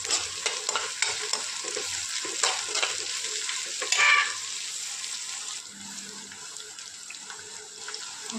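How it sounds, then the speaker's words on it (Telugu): Mustard seeds, cumin, green chillies and onions fry in oil for a dal rasam, giving a steady close hiss and sizzle with occasional stirring scrapes throughout and no talking. "ఆవాలు, జీలకర్ర, పచ్చిమిరపకాయలు, ఉల్లిపాయలు అన్నీ బాగా వేగిన తర్వాత కొంచెం కొత్తిమీర కూడా వేసుకోవాలి."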